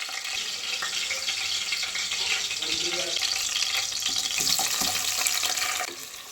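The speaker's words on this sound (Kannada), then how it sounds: "ಇವಾಗ ಈರುಳ್ಳಿನ ಚೆನ್ನಾಗಿ ಎಣ್ಣೆಲಿ ಫ್ರೈ ಮಾಡಬೇಕು" Onions fry in oil in a pan for an egg and spinach pulao, producing a continuous close sizzle with soft stirring scrapes throughout.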